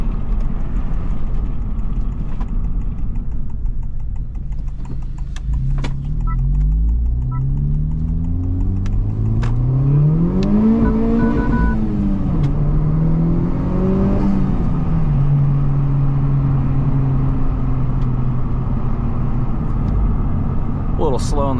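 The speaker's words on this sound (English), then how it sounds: "let's see if we can get some exhaust noises for you guys here." A Honda Civic Type R FL5 on 19-inch stock wheels accelerates on a winter road, its engine and exhaust note rising and falling through the gears, heard from inside the cabin, loud and steady.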